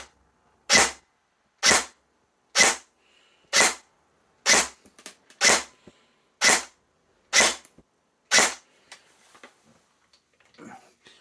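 A Specna Arms SAJ05 AK airsoft rifle firing nine crisp, close single shots at an even pace about a second apart, followed by faint handling rustles.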